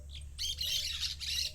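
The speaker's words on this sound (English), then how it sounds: "parakeet" A parakeet squawks in harsh, raspy bursts, a small chirp first, then a long, loud, continuous run of grating calls close up over a low background hum.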